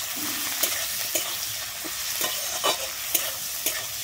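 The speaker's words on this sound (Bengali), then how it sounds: "আমি পেঁয়াজটাকে দিয়ে কিন্তু একটু ভেজে নেব।" Continuous loud sizzling of onions frying in a pan, with occasional soft scrapes and clicks from stirring.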